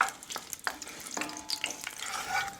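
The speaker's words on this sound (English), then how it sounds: "We'll put that in there and just let that cook for a few minutes, stirring it around until it's all soft." Serrano chili and garlic sizzle in olive oil in a pan while being stirred, a steady bright frying hiss broken by occasional scrapes of the spoon, close and fairly loud.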